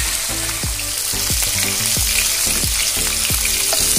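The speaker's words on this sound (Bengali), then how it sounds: "এক পিঠ হয়ে গেছে, অপর পিঠটা আমি ভেজে নিচ্ছি।" A katla fish head fries loudly in hot oil, a dense steady sizzle broken by repeated sharp spattering pops and crackles through the whole stretch, with no voices.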